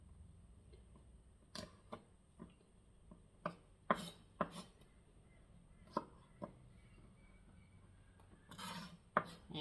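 A knife roughly chops garlic cloves on a cutting board, a series of irregular sharp knocks spaced out against a quiet background, with a quick double strike near the end.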